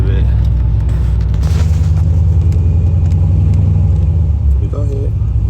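Loud, close engine hum and rumble of a car as a nine-year-old at the wheel eases onto the gas, the pitch rising gently, with people talking over it.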